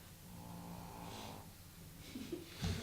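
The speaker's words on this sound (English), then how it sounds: "The dog is snoring." A dog snores close by with slow, rumbling breaths in and out. The sound is quiet and steady and ends in a louder snort.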